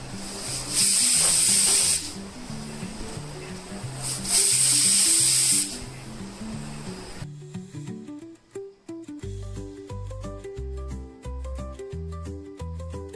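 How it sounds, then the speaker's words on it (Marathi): A pressure cooker of brinjal for Khandeshi-style mashed brinjal sabzi vents steam in two loud, sharp hissing bursts a few seconds apart, then music takes over. "आता कुकर लावून घेते बंद आचेवरच आपल्याला दोन शिट्ट्या घ्यायच्या आहेत"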